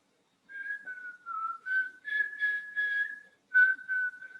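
A single person whistles Mary Had a Little Lamb alone, clear sustained notes in a gentle stepwise line with brief pauses.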